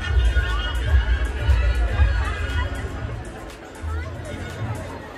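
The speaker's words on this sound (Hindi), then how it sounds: "भीड़, बस भीड़ देखना है हम लोग।" A thick crowd at a busy Dandiya night, overlapping voices and chatter forming a steady hubbub with a few nearer shouts and low rumbling footsteps.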